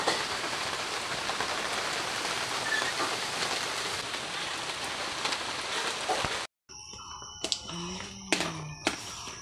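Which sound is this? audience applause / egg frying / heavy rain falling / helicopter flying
heavy rain falling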